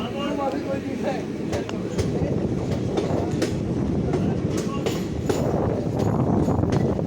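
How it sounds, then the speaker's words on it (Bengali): A moving train rumbles loudly and steadily with rhythmic clacking of wheels, and voices talk faintly over the noise. "ট্রেনে রয়েছি গাইস"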